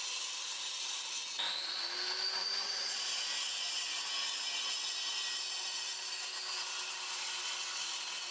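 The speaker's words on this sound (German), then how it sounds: "Dazu schneide ich jetzt schon mal die Öffnungen vor." A power saw cuts ventilation openings into a chimney during a chimney renovation, giving a steady, bright grinding whine that holds for several seconds with a slight pitch shift as the blade bites in.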